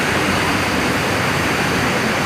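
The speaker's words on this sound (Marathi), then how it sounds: "मालगाडी जात आहे फास्ट ट्रेन." A fast freight train rushes past Rabale railway station as a loud, dense, steady roar of rumbling wheels and rushing air, close by and unbroken, with no voices heard.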